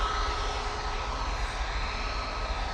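A Malta Air airliner moves past at Manchester Airport, a steady distant engine roar and broad whoosh holding at an even, moderate level with no talking.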